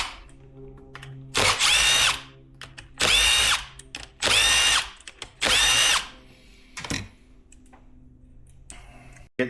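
A power tool zips off the crank nut during a 2025 Yamaha YZ85 engine rebuild: four loud, close bursts of whirring, about a second each, separated by short pauses with no talk.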